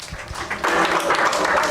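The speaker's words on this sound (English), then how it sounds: "Can we give her a round of" An audience applauds for Kealoha Pisciotta at a Mauna Kea presentation, the clapping swelling quickly from a few scattered claps into a steady, full round of applause.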